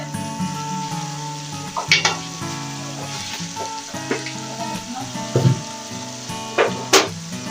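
Ginger and garlic sizzle in a pan for a sweet potato and yam dish, a steady close fry with occasional scrapes and clinks as it is stirred.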